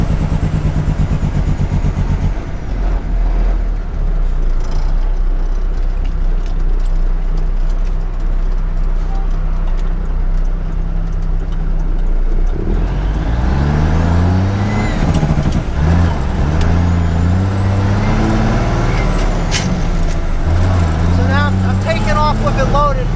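A loaded 10-wheeler dump truck's six-cylinder diesel engine drones loud and close, then climbs in pitch through successive gear changes with rising and falling revs.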